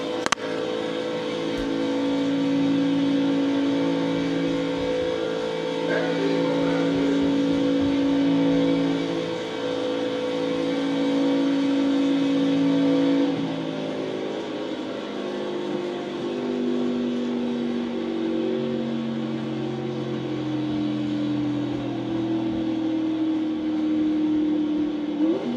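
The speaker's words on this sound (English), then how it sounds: "I'll leave the mic here so you can at least listen to the car." A race car engine in iRacing at Daytona drones steadily for about 25 seconds, with a sustained tonal whine that shifts pitch slightly as the revs change and no one speaking.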